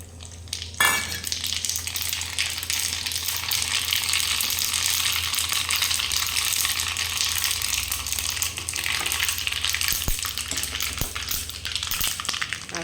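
Tempering for handvo crackles in a pan, bursting into a loud sizzle at the start of the clip. The hiss stays dense and continuous at close range, with scattered clinks and stirring sounds and no talking.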